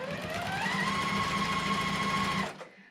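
A sewing machine stitches a white and a navy fabric piece together along a short side with a quarter-inch seam, running steadily and alone for about two and a half seconds before stopping abruptly.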